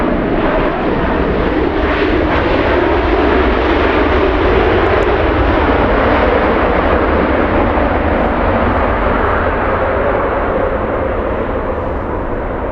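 Scandinavian Airlines Airbus A330-300 arriving at Los Angeles International Airport after a long flight from Copenhagen, a loud, steady roar of jet engines filling the whole stretch, close and constant without a break, no voices over it.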